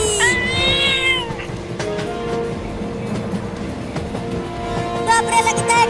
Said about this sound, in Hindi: ये खतरनाक बिल्ली मुझे काट लेगी